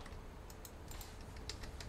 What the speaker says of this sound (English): I was clicking the buttons again.